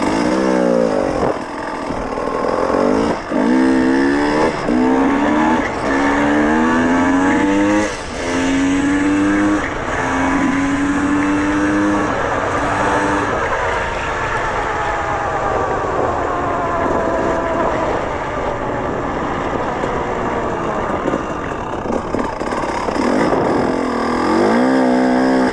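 A motorcycle with a TPi fuel-injection map is ridden out, its two-stroke-style engine loud and close, revving up through the gears with rising and falling pitch and a brief drop between shifts.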